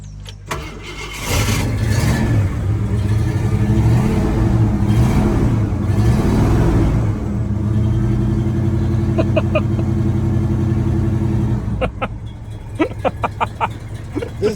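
Ford Mustang at a Global Mustang Day gathering cranking over and firing up, then blipping and revving loudly before settling into a steady rumbling idle, with a few sharp clicks and bumps near the end.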